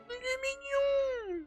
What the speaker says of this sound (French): Oh mais c'est un chat!